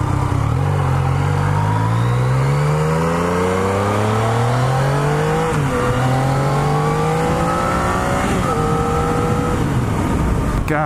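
A 2016 Yamaha XSR900 motorcycle engine revs hard through several rising gear pulls during a ride, loud and close with steady wind rush and drivetrain whine, the pitch climbing then dropping at each shift.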